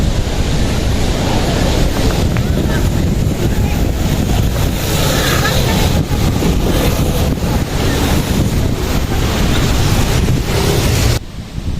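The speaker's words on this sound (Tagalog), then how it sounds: "yung ihip ng hangin nanggagaling sa likod namin" Strong wind blows from behind on an open boat at sea, roaring steadily into the microphone with waves and water rushing along the hull, loud and continuous for the whole stretch before cutting off at the end.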